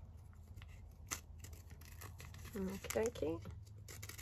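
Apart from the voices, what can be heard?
scissors cutting out stamped fabric pieces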